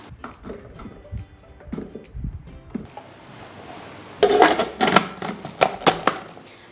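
Onion pieces tumbling into the plastic bowl of an Idealife IL-222 food processor, a series of light knocks and clatters, then a denser flurry of louder thuds and rattles near the end, with no voices.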